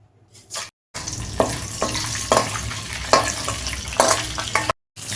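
Whole spices, cumin and bay leaf hit hot oil left over from frying fish, setting off a sudden close sizzle with crackling bursts and stirring knocks. It cuts off briefly near the start and again at the end.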